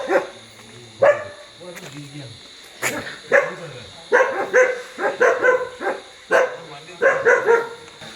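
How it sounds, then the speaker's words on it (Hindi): Several dogs bark sharply in bursts at night while a leopard is suspected nearby, with yips and whimpers between volleys, someone talking over them and insects droning steadily in the background. "देखो कुत्ते इस तरफ भौंक रहे हैं।"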